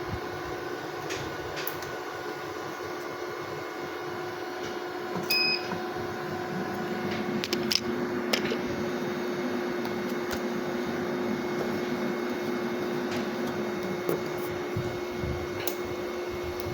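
A 5kW off-grid UPS inverter with pure sine wave output, LCD touchscreen and MPPT powering up: a steady electrical hum and whine runs throughout, with a brief electronic beep and a few faint clicks partway in.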